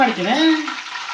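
Mushroom kebabs frying in a pan, giving a steady sizzle with a stirring scrape and a short sweeping tonal squeal early on, close and fairly loud with no talking.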